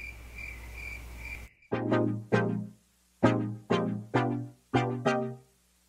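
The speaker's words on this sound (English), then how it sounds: "Crickets, crickets." Crickets chirp steadily for a brief moment before cutting off abruptly, followed by a series of plucked, ringing musical notes.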